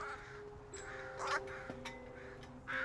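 Young crows caw a few times, short harsh calls spaced over a couple of seconds, fairly faint against quiet background noise.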